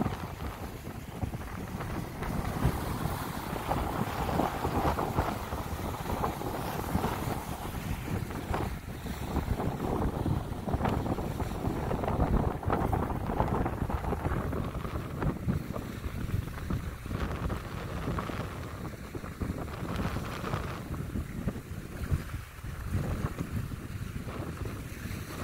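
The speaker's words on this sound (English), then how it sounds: "Splashing up over the pier up ahead." Lake Michigan waves splash over a pier along the Frankfort shoreline, a steady roaring wash of surf mixed with gusting wind noise on the microphone, continuous and fairly loud throughout.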